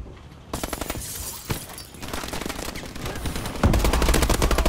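Loud, rapid automatic gunfire in the video game Conker: Live & Reloaded, with dense rattling bursts and sharp shots that run almost without pause and grow heavier near the end.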